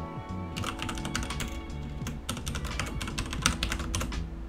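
Close, quiet typing on a computer keyboard enters a name during a Linux setup on an Apple TV, with irregular bursts of clicking keystrokes and brief pauses between them.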